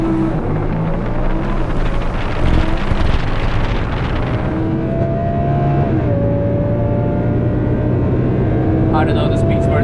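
A 1230 hp MTM Audi R8 with a twin-turbo V10 pulls hard through first gear at the Nürburgring, its engine note rising steadily and then shifting as it carries on, loud and continuous with wind buffeting the microphone.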